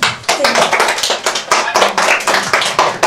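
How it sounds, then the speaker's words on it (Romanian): Brisk, loud hand clapping from a small group at a birthday surprise, with rapid steady claps close by throughout and no voices. "Aplauze!"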